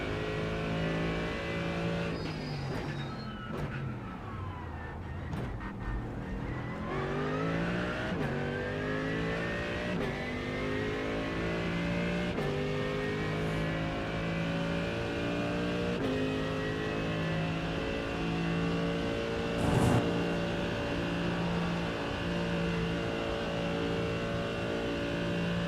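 A race car in the iRacing sim roars through a lap, its engine repeatedly revving up through the gears with rising whines, dropping on shifts and braking, loud and continuous.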